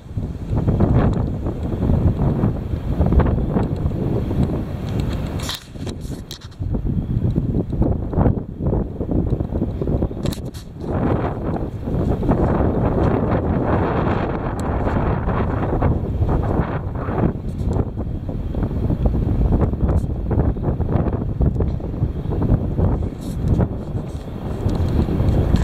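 Heavy wind blowing hard and continuously, a loud roaring rumble buffeting the microphone with gusty surges and brief lulls, no voices.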